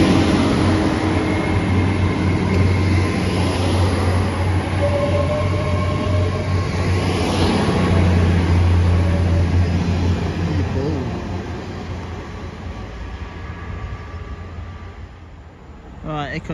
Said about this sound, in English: there goes 800-036 going to London Paddington via Oxford from Great Malvern